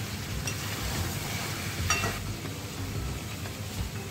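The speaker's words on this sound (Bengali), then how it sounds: "দিয়ে বেশ ভালোভাবে ওপর নিচ করে মিশিয়ে ভালো করে কষিয়ে নেব।" Chicken curry masala fries in a pan while it is stirred, a steady close sizzle broken by scraping and a few light clinks, with no voices.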